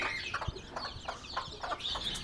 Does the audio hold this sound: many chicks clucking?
yes